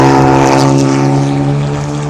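A Lamborghini Huracan Super Trofeo race car fitted with a Honda K20 turbo engine drones loudly and steadily on track, a deep harmonic-rich roar close by that fades slightly as it passes.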